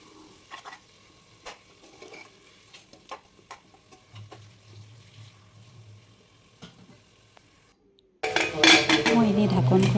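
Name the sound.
spice paste frying and being stirred in a pan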